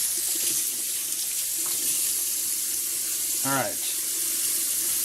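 A kitchen tap runs in a steady hiss and splash while turkey giblets are rinsed, close and continuous, with a brief voice speaking over it partway through.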